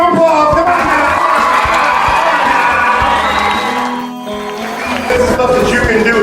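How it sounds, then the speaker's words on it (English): A large student audience at a STEM event cheers and shouts loudly with whoops, the roar dipping briefly before swelling again, voices mixed into the crowd noise. "Give him a round of applause."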